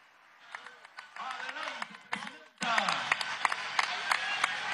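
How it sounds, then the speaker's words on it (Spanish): Crowd applause for Delcy Rodríguez at an outdoor swearing-in event of the Zulia governor and mayors, starting as scattered clapping under shouts and voices, then swelling into a loud, dense ovation with cheering. "Vamos a darle un aplauso a Delcy Rodríguez."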